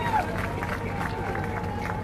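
A crowd at a political rally in Jalandhar applauds loudly and steadily, a dense continuous wash of clapping with voices mixed in throughout.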